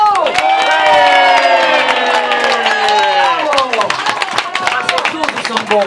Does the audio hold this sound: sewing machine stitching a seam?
no